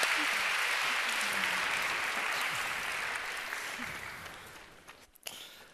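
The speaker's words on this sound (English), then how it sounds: "Please, an applause for this splendid," Audience applause for a tech-industry panel at a women-in-tech event, a dense, steady wash of clapping that slowly thins toward the end before a brief final burst.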